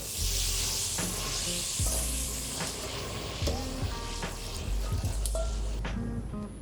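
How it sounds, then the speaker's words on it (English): A reduction of sake, rice vinegar and white wine over confit shallots bubbles and sizzles softly in a pan for a beurre blanc, with a steady hiss and occasional stirring clinks and taps. "So now we're gonna make a reduction of beurre blanc using some confit shallots at the bottom."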